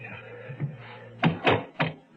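Knocking at a door in a radio drama: after a low hum and faint murmur, three firm knocks land close and loud, two quickly together and a third after a short gap.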